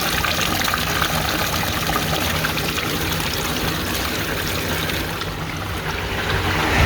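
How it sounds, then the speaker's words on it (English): Rainwater pouring over the top of a clogged gutter leaf filter, a dense, continuous splashing rush that stays loud and steady throughout, with no voices. "See how much water we have flowing through here."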